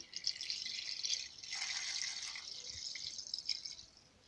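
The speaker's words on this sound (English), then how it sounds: "now we're gonna add hydrochloric acid." Hydrochloric acid is poured into a beaker of crushed ceramic CPUs, producing a thin, close trickling and fizzing pour that runs for about four seconds at moderate-to-faint level, with no talk.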